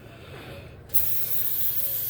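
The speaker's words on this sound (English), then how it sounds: "Take the brake clean." An aerosol can of brake cleaner starts spraying abruptly and keeps up a steady, close, loud hiss to the end, over faint background hum.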